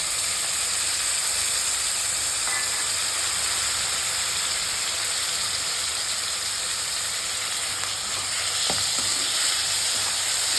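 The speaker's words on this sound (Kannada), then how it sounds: "ಈರುಳ್ಳಿ ಹಾಕಿದ್ದೀನಲ್ವ, ಸಾಲ್ಟ್ ಹಾಕಿದ್ದೀನಿ, ಟೊಮೊಟೊ ಹಾಕಿದ್ದೀನಿ, ಅದೇನಾಗುತ್ತೆ ಕ್ಲೀನಾಗಿ ಫ್ರೈ ಆಗುತ್ತೆ" Onions and tomatoes with salt fry in a pan as a loud, continuous sizzle and hiss that stays steady throughout, with only a few faint clinks and no talking.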